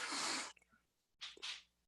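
A single loud, close sneeze bursts out, followed after a pause by a softer breathy sniff or second exhale, with quiet room tone between.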